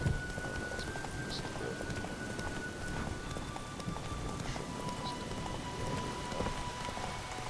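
Steady rain pattering in the Witcher 3 video game, a dense continuous wash of drops on surfaces with faint rumbles of thunder low in the mix, no speech.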